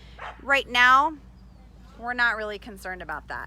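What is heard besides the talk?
puppy barking during place command training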